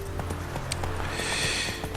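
A horse gallops in The Witcher 3, its hooves clip-clopping in a quick rhythm, close and fairly loud over ambient game sound, with a brief whinny-like call partway through.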